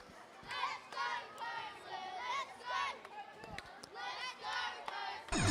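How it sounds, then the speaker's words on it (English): Enthusiastic crowd cheering in bursts at a FIRST LEGO League robotics championship in Australia, with loud rising whoops and yells swelling and fading several times over a noisy hall background. "Very, very enthusiastic cheering behind me."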